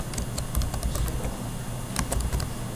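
Someone types on a computer keyboard at a Linux terminal, with scattered light key clicks buried in a loud, steady background rumble and hiss.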